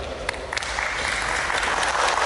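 An audience at a football shooting contest event claps and cheers as a contestant is called up, a sustained burst of applause with a few sharp claps standing out near the start.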